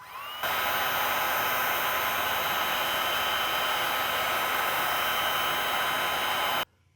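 Heat gun shrinking tubing over an inline fuse on backhoe wiring, a steady loud blowing whine that switches on, holds for about six seconds, then cuts off.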